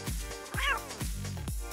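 Cat meowing close up, two or three drawn-out, rising and falling meows in quick succession.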